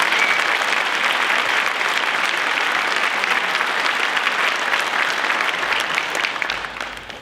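A welcome at a first responders' valor awards ceremony draws an audience into loud, sustained applause, a dense wash of clapping that holds steady for several seconds before starting to fade.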